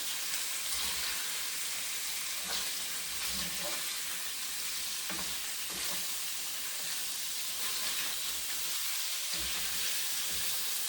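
Tofu sizzles and fries steadily in a pan for a bok choy stir fry, a continuous bright crackling hiss with occasional louder spits and stirring bumps, close by and with no talking.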